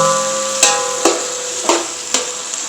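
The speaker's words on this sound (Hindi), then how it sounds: "ऑयल हमारा अच्छे से गर्म हो गया था, अब इसमें हम प्याज ऐड करेंगे" Onions being stirred in hot oil for chicken biryani, with a steady sizzle underneath and four or five sharp, evenly spaced knocks of a spoon against the pot, close and clear.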